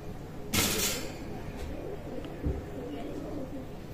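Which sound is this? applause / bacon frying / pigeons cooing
pigeons cooing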